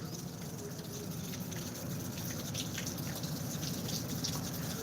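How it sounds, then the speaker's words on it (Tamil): Steady rain falls outside in Kovilpatti, a continuous even patter with soft dripping and no voices over it. "மழை பெஞ்சிட்ருக்கு"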